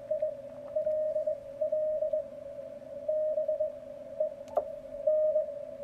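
A steady pure tone hums through faint radio static, with soft crackles and a brief click near the end, a ham radio signal through a Yaesu FTdx10 audio peak filter boosted at 600 hertz.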